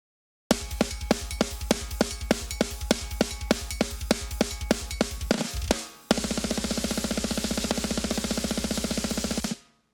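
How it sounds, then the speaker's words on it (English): A heavily compressed drum pattern through parallel compressors, with sharp, snare-dominated hits in a steady rhythm, then a dense sustained wash of crashing cymbals and noise before cutting off. "all of these parallel compressors together sound like this"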